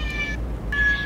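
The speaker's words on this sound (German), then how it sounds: "bei dir fährt eine Katze mit, ist auch nicht schlecht" A cat riding along in a moving vehicle gives two short meows, close and fairly clear, over a steady low road rumble, with no talking.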